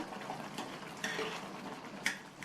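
Soft scraping and light metallic clinks of a utensil stirring a South Indian tomato dish in a pot, quiet and close, with a few sharper taps against the rim.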